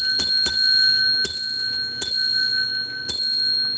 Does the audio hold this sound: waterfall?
no